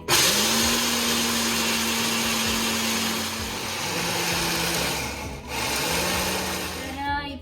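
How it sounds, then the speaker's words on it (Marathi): An electric mixer grinder grinding soaked wheat, a loud steady motor whine with the pitch dipping and rising as it runs in pulses for several seconds. "तर हे जे आता ओलवलेले गहू होते तर ते आता मी मिक्सरला फिरवून घेतेय"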